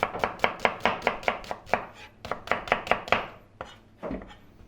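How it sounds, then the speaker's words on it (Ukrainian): Carrots being chopped with a knife on a board in a military field kitchen: a quick, steady run of sharp, close knocks, a brief pause, then more strokes tapering into a few scattered cuts. "беремо морковку, теж нарізаємо"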